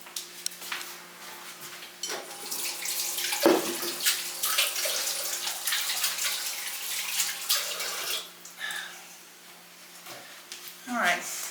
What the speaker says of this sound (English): Now, let me wash my hands one more time.